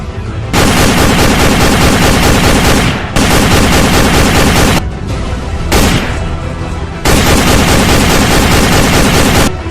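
Loud, dense bursts of gunfire and explosion sound effects roar in a comedy short film, three long blasts broken by brief lulls, filling the whole span without speech.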